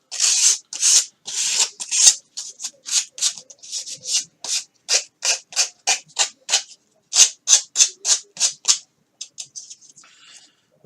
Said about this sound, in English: Give it all over sand and then sand that edge